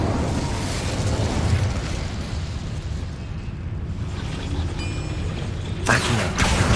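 The Incendio fire spell is cast in Hogwarts Legacy with a dense, roaring whoosh of flame and rumbling bursts. The sound is steady and full-bodied, then drops briefly before a sharp crackling flare near the end.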